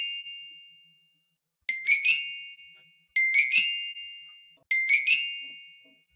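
Bell lyre notes from a sample library ring out clearly, one sustained tone fading at first, then three bright metallic strikes, each a quick double hit that rings and decays in a steady rhythm, with no other sound.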